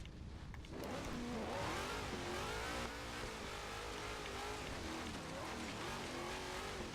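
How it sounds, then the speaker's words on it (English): Engine of a car in the video game Forza Horizon 3 roars loud and steady, revving hard with a rising, sustained tone that carries through the whole stretch alone. "I can't hear myself think over the sound of this car."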